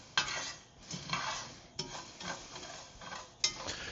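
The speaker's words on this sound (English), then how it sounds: "At that point, give it a good stir." Dry rice toasting in a pan without oil is stirred with a utensil, giving repeated scraping and rustling strokes with a few sharp clinks against the pan, quiet and close.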